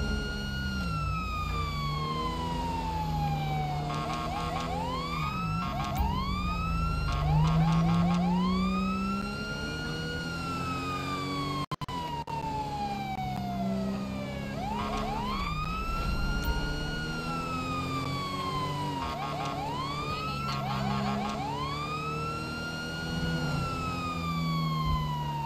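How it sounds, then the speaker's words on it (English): Default police siren in the LSPDFR police patrol game, a loud continuous wailing sweep rising and falling repeatedly, alternating with faster yelp bursts over a low engine rumble, with no talk. "so I'm just gonna have the default sirens."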